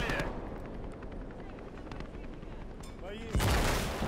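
Two machine guns firing in a large-scale war video game, dense bursts and booming gunfire rumbling throughout, with a louder blast near the end and a voice talking over part of it.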